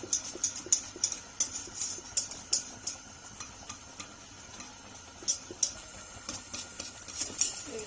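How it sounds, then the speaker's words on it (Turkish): A spoon stirring helva pudding mixture in a pot as the sugar melts, with repeated light scrapes and clinks against the pot in an irregular rhythm, close and fairly quiet. "Şeker eriyene kadar karıştıralım."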